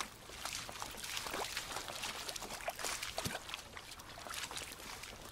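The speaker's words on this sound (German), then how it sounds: "Hören Sie. Wasser. Der Fluss muss ganz in der Nähe sein." River water rushes and trickles steadily nearby in the World War II shooter Call of Duty: WWII, a continuous splashing flow with no talking.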